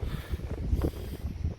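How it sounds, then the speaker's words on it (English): Steady southwesterly wind gusting over 20 mph buffets the microphone on a fishing shore at Silloth, a low rumbling roar that swells and dips in gusts. "The wind's a southwesterly wind, about 20 plus mile an hour gusts."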